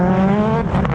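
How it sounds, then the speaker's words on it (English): Rallycross car at an Australian RX round (2018 Round 3, AWD class) driving a turn from dirt back onto bitumen, its steady high engine note with harmonic whine and a tyre squeal rising near the end, loud and close with no talk. "You can hear the tyres tortured through turn 1 and 2."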